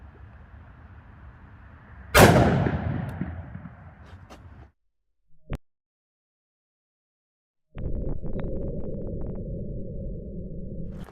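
A single sharp, loud report from a snub-barrelled Smith & Wesson Model 69 .44 Magnum revolver fired into ballistic gel, with a lingering decaying roar and a brief later knock, then steady background hum.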